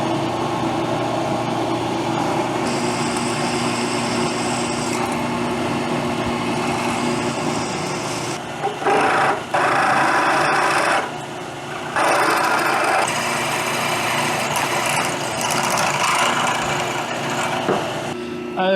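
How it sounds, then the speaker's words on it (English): Metal being drilled for a Tiger Cub motorcycle muffler end cap in a workshop, a steady whining machine drone running nearly continuously with a few brief dips and restarts. "Let's go drill the hole at a 90 so that we can put the shaft in so we can turn it."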